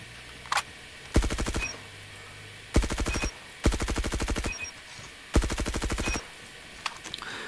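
Groza assault rifle firing in a video game, with a single shot, then four loud bursts of rapid automatic fire separated by short pauses, close and alone.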